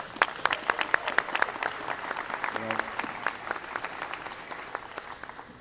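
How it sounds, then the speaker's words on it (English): Scattered audience applause at a ceremony where a college basketball coach receives a key to the city, a fairly faint crowd of claps with distinct individual hits, and a voice speaks briefly midway. "Give him a round of applause."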